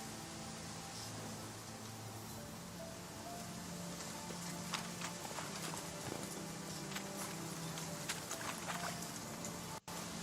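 Roach the horse from The Witcher video game breaks into a run, faint hoofbeats thudding over a steady wash of background ambience, with a brief dropout near the end.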